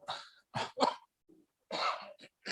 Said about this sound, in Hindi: खांसी आने का बहुत खराब समय था